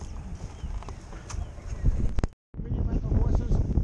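Rented riding horses clip-clop along a trail on a warm day, steady hoof beats mixed with wind noise on the microphone, a brief dropout midway, and voices talking in the background.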